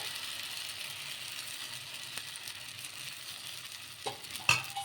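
Moong dal bun dosa batter spread in a pan over a low flame, giving a soft, continuous sizzle close by, with a couple of faint utensil taps near the end.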